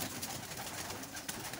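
Teddy breeder pigeon cooing softly somewhere behind a steady hiss of background noise, with a few low, faint, repeated coos.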